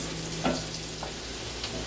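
Chopped onions for a chicken pot pie softening in a hot pan, a faint steady sizzle with a couple of brief stirring scrapes over low background hum.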